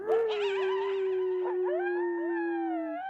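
A person imitates a long dog or wolf howl, one sustained rising and wavering wail lasting about three seconds, close and loud with no other sound.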